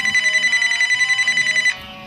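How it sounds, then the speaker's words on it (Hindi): A telephone rings loudly with a steady repeating electronic trill for nearly two seconds, then cuts off, leaving only a faint background hum. "अरे मोदी जी का फोन आ गया।"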